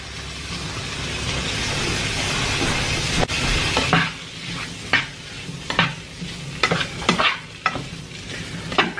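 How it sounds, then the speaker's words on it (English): Small bits of meat fry in a hot pan on a stove, a continuous loud sizzle broken by scraping stirs and sharp utensil clinks against the pan. "I hear the sizzle."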